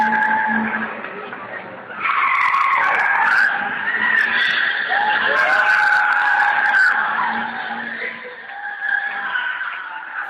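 Cars doing drift stunts on a street in a Lisbon neighbourhood send out loud, sustained tire squeals that rise and fall over a steady engine roar for several seconds.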